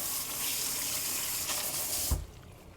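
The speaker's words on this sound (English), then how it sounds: "If you're wondering what happened to the zucchini, here it is. We'll rinse." Tap water running into a sink while zucchini is rinsed, a steady close splashing stream that cuts off abruptly near the end.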